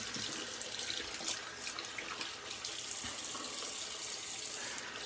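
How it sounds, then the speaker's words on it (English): Cold water runs from a tap into a sink for a rinse after shaving, a steady soft hiss and splatter with faint irregular splashes, fairly quiet and continuous. "I'm going to cold water rinse"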